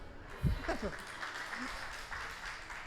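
An audience at a Christmas worship service claps in a brief, faint round of applause, mixed with a speaking voice and room murmur.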